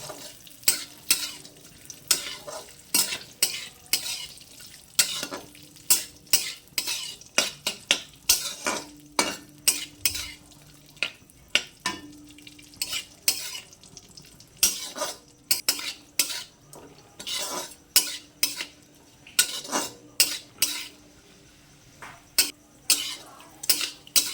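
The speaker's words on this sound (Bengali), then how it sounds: "হালকা জাল দিয়ে এগুলোকে ভালো করে ভেজে নেব।" Cashews and raisins fry over low heat in a pan, with a soft sizzle under repeated sharp scrapes and clinks of a spatula stirring against the metal at an irregular pace.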